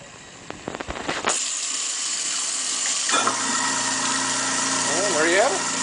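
A newly replaced kitchen garbage disposal runs with the tap water on: a few clunks, then a steady motor hum and rushing water that carry on to the end.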